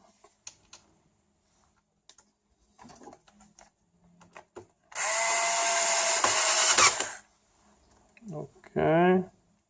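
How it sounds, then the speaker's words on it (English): A power screwdriver drives screws into a Samsung CLP-315 colour laser printer: a loud, close whirring burst of about two seconds, then a shorter one, with quiet clicks of handling between. "Now we are going to put two screws over here and over there."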